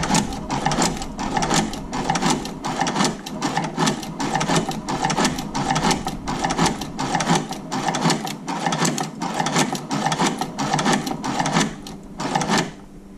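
A Chinese shoe patcher sewing machine stitches in a fast, regular clatter of needle strokes, loud and close, running steadily for several seconds before easing off at the end.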